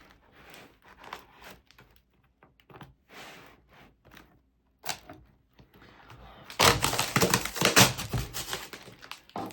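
Packing tape is pulled and peeled off the box of an Athearn N scale Union Pacific Challenger locomotive, starting as quiet scattered rustles and clicks and ending in a louder, sustained ripping tear over the last few seconds.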